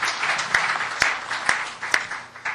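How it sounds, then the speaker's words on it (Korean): Audience applause welcoming speakers at a Korean church social-service policy forum, a steady mid-level wash of clapping with a few sharper individual claps standing out. "박수로 환영해 주십시오"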